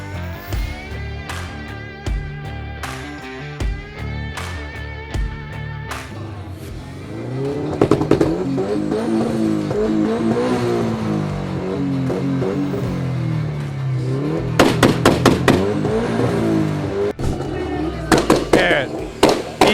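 Loud race car engines rev and roar repeatedly at an automotive festival, with sharp bursts and sustained revving, while people talk over the noise.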